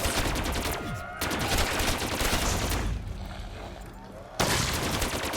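Rapid automatic fire from an RPK machine gun with a drum magazine, pack-a-punched in Black Ops 3 zombies on Kino der Toten, loud bursts continuing across most of the stretch with a brief lull before resuming.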